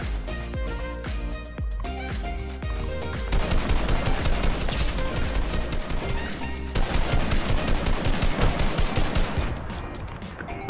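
Rapid bursts of gunfire ring out in Fortnite, fast rhythmic volleys loud and close, broken by short pauses, with no one speaking.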